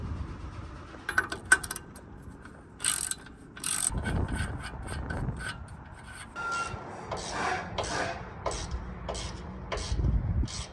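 Ratcheting wrench working on King shock bolts on a 2019 Ford Ranger, bursts of rapid clicks mixed with metallic clanks and rubbing, close and moderately loud with no speech.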